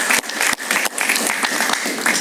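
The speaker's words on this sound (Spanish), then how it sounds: "Un aplauso para Alejandro Cardona." An audience in a Spanish-language TV talk show studio applauds, a dense, steady burst of clapping that fills the short moment up close.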